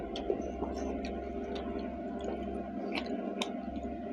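Someone chews spicy chicken kosha with rice, soft wet squishing and mouth sounds close to the mic, with a low steady hum underneath and no speech.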